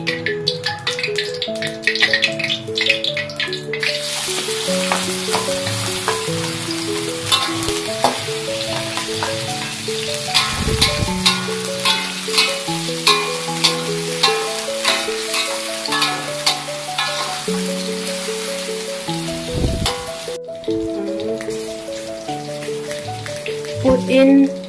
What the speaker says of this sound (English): I'm going to fry the sausage first